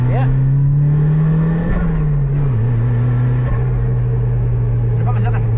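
A BMW E30 fitted with a Nissan SR20DET turbo engine sits idling and revving. It gives a loud, close, steady drone that holds one pitch, dips slightly midway, then settles again.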